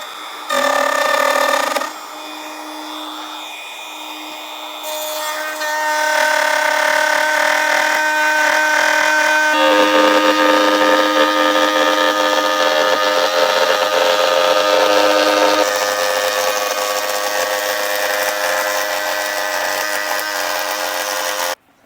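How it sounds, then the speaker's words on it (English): A router fitted with a bearing bit trims the edge of an epoxy tabletop, making a loud, sustained high whine that shifts in pitch as the cut loads and eases, over about twenty seconds with no talking. "Router actually cuts this pretty smooth."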